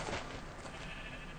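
Sheep in the Minecraft video game bleat over a dense, steady wash of game sound with no talking.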